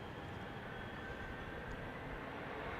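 A Boeing 777 spools up its engines at Amsterdam Schiphol Airport, giving off a steady broadband rumble and hiss heard from a distance for a few seconds.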